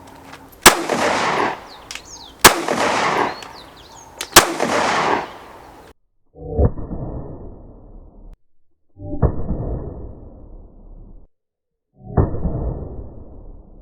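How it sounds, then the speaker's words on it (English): Three loud, sharp gunshots of hollow point bullets fired into loaves of bread, each a sudden crack with a decaying tail, followed by three duller booming reports after brief pauses. "So I'm gonna grab a hollow point and see what it does to my loaves of bread"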